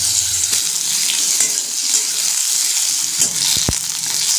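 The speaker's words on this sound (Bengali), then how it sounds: "আলুগুলো প্রথমে একটু ভাজি করে নেব" Potatoes frying in a pan, a loud continuous close sizzle with a few utensil knocks and a brief watery splash near the end.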